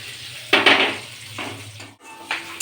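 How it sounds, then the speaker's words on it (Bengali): Onions are stirred in oil in a frying pan while cooking cauliflower do-pyaza. Close sizzling runs under scraping, clinking strokes of a utensil against the pan in a few short bursts. "আমি ওই পেঁয়াজটা একটু 2 মিনিটের জন্য একটু নেড়ে নিচ্ছি"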